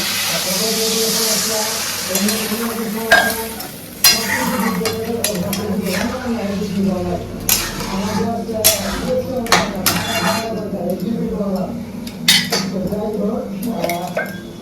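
Food sizzles and hisses in a pan in a home Bengali kitchen while a metal spoon scrapes and stirs in repeated sharp clinks, with someone talking throughout.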